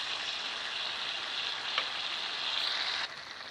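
Large-cut tomatoes sizzle in hot oil for a mutton karahi, giving a loud, steady hiss that eases off near the end.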